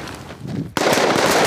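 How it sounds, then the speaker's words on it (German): A sudden loud burst of rifle fire erupts during military shooting training for conscripts of Sweden's Gotland Regiment P18, following a quieter stretch and sustaining sharp, reverberant noise. "Anlegen, feuern, je Anschlag 3 Schuss."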